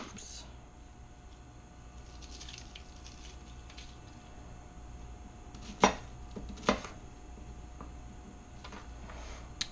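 An onion is diced into cubes on a cutting board in a home kitchen, two or three sharp knife chops standing out against quiet room noise, with a voice speaking softly nearby.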